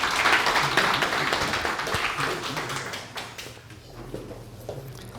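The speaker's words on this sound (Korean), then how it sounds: "큰 박수로 모시도록 하겠습니다" An audience at a garden-policy forum applauds to welcome a speaker. The clapping starts fairly loud, then gradually thins and fades, with a few scattered claps trailing off near the end.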